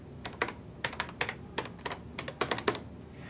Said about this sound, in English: Right after typing the word